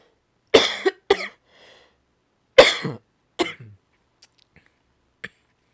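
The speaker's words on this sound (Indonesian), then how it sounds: "batuknya ini juga bukan karena virus ataupun udara" Several sharp, close coughs come in separate bursts, a pair early and another pair later, followed by faint throat clearing in otherwise quiet surroundings.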